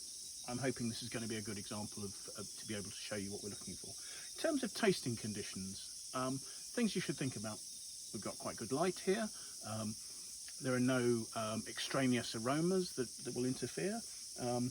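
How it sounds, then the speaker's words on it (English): Cicadas drone steadily in the background at a Martinborough Chardonnay tasting outdoors, a constant high buzzing band that runs beneath someone speaking throughout. "Excuse the noise of the cicadas in the background."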